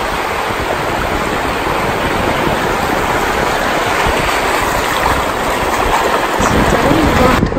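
Two sets of waves converge on a Costa Rica beach, a loud, continuous rushing wash of surf that swells slightly toward the end, with no voices.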